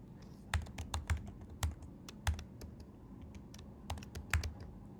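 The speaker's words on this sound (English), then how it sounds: "please type according to how I type it" Fingers tap on a computer keyboard in an irregular string of crisp, close keystrokes, some in quick clusters, with short pauses between them against a quiet background.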